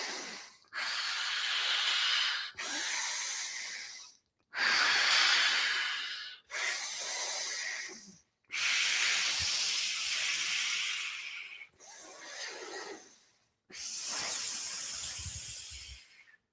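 Deep diaphragmatic breaths during expiratory muscle training come as seven long, forceful, hissing exhalations. They are close and loud, separated by brief silent pauses.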